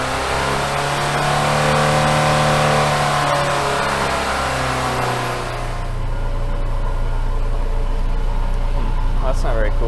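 A car engine on a dyno revs steadily at high pitch, then drops to a lower sustained drone partway through, loud and continuous with some voices underneath; the engine is in limp mode.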